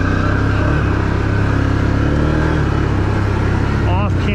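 Can-Am ATV engine, a big-bore 1000R Outlander, revving hard and steady as it climbs a steep, off-camber hill with the rear tires spinning, loud and close throughout, with a brief high whine near the end.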